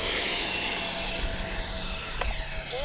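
A Freewing A-10V V2 radio-controlled jet flies overhead, its electric ducted fans giving a steady whining roar that swells slightly as it passes, heard outdoors at moderate distance with a couple of faint clicks and no talking.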